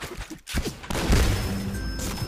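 Gunfire in the online shooter Point Blank, with sharp shots and a crashing burst at close range, heard as brief game audio.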